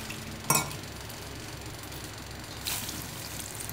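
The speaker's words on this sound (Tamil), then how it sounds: "இப்போ இது கொஞ்சம் கொதிக்கட்டும்." Rasam with lentils boiling in a pot, giving a soft, steady bubbling hiss with two brief clinks of a utensil against the pot, fairly faint throughout.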